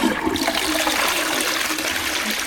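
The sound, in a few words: toilet flushing with Duck Fresh rim block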